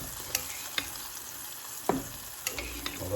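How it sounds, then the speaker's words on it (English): Buttermilk-soaked, flour-coated pieces fry in hot oil with a faint, steady sizzle, punctuated by a few sharp clicks and scrapes as they are stirred and tossed around the pan. "While those are frying"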